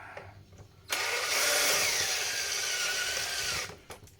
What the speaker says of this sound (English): I am just going to go get a screw, drill bit, and I think we'll pop these rivets off.